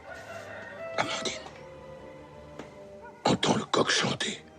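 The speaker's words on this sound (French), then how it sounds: "entends le coq chanter." A rooster crows loudly and close by in a short burst, then again in a longer series of strained, wavering calls after a pause, alone over a quiet background.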